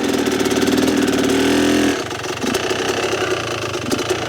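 A motorcycle engine revved high during a hill start, a loud held rev that drops abruptly to a rougher, lower idle-like rumble with small blips, close to the listener, no talking.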